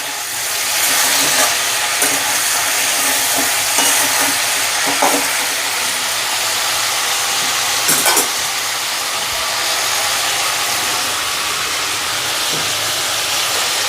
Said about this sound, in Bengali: চিকেনটা আমি এরকম করে ভেজে নিচ্ছি তেলে।